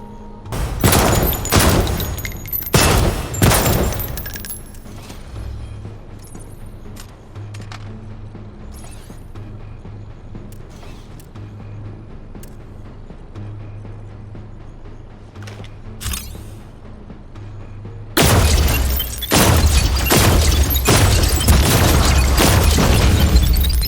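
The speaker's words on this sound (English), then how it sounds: "Let's move on to secondary firing mode." Gunfire from a weapon's secondary firing mode in the Defector VR video game comes as loud, dense bursts of shots and booms at the start and end, separated by a quieter stretch of low game ambience and a few faint clicks.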